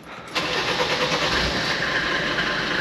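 A restored Mercedes G Wagon diesel turns over and catches almost at once, settling straight into a loud, steady, rough-edged idle close by, with no throttle blips.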